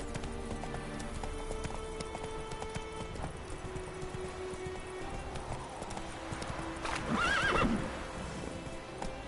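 A horse gallops with rapid rhythmic hoofbeats in The Witcher 3 on PS4, followed by a clear neigh, over game background sound.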